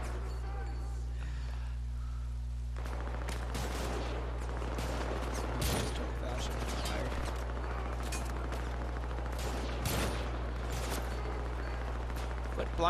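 Gunfire in the Syndicate shooter video game, rapid bursts and a few sharper blasts over a steady background hum, with people talking over it.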